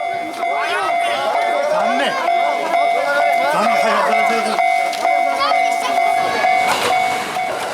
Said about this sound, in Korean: 때마침 기차가 지나간 것이다.